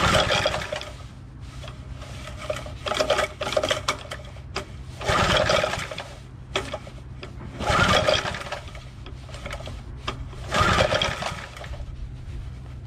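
A Briggs 3HP engine on a Toro Power Handle 25-inch reel mower is cranked with no gas in the tank, giving three or four separate bursts of whirring, chugging turnover between quieter pauses, close and fairly loud.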